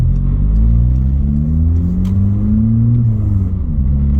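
A loud car engine with no exhaust silencers rumbles steadily nearby with a deep, raw drone, its pitch rising and then dipping as the engine is revved.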